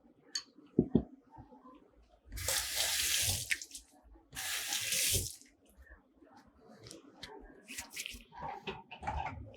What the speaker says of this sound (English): I'm just going to put some boiling water in the pot here